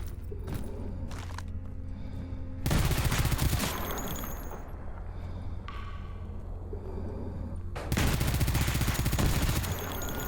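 Gunfire in the video game S.T.A.L.K.E.R. Anomaly: loud, rapid automatic bursts, with two especially heavy volleys standing out against a continuous background of shots and clatter.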